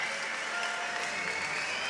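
An arena crowd at the 2015 UCI Track Cycling World Championships in St Quentin-en-Yvelines applauds the women's scratch race bronze medalist with dense, continuous clapping that is steady and fairly close throughout.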